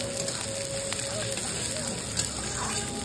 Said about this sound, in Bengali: পেঁয়াজটা দিয়ে আমি ভালো করে নেড়ে নিই।